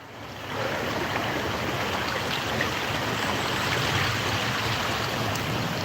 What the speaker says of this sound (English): let's just show you the state of the river. It's still, to be honest,